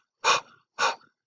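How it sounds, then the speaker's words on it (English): Two short, breathy exhalations, each a puff of aspirated air like an H sound, heard close and alone with a brief pause between them. "that's called aspiration, a breathing exhalation."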